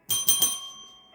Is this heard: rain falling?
no